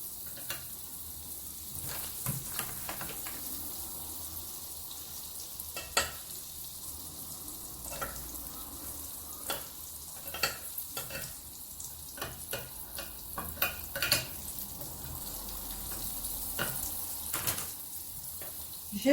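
Butter heats in a preheated waffle iron, giving a soft continuous sizzle with scattered small crackles and faint clicks, fairly quiet and with no talking.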